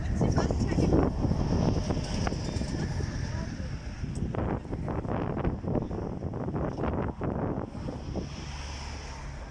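Strong wind buffets the microphone steadily, a roaring gusty rumble with no clear pauses, outdoors in cold open air in Medjugorje on Palm Sunday.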